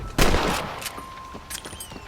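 A loud gunshot cracks out at the start of a shooting contest in the video game Red Dead Redemption, followed by a few fainter shots and ambient game sound trailing off.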